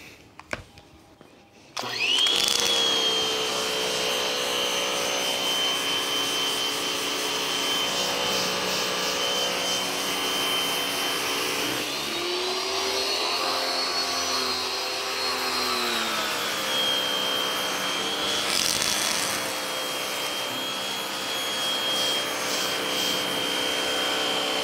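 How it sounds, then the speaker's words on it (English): A pressure washer sprays water over the truck bed cover of a Rivian R1T, kicking in abruptly after a quiet start and then hissing in a loud, steady stream, with its pitch shifting midway as the spray moves across the cover. "We're gonna try the pressure washer approach."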